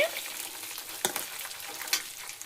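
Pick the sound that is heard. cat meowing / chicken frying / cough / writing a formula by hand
chicken frying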